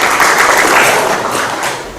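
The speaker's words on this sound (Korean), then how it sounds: "그럼 박수로 맞이해 주시죠." Audience applause greeting a speaker at a Korean community energy policy forum, a steady wash of many hands clapping throughout, fairly loud and close, with no talk over it.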